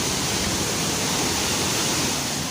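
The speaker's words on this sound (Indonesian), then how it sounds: "Dan di bawah kita ini aliran sungai dan langsung terjun Curug Gentong tadi" Curug Gentong waterfall in Serang, Banten, and the river flowing beneath a wooden bridge, heard as a steady, dense broadband rush of falling and running water, loud and unbroken, with no voices.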